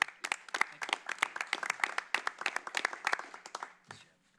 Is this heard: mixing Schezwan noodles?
no